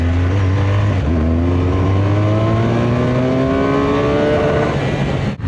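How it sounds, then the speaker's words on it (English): A BMW R1200RS motorcycle engine revs hard through a rising sweep of loud tonal whine, then briefly bounces off the rev limiter near the end, heard close up over steady wind noise, no talking. "Very lightly bounced off the rev limiter there."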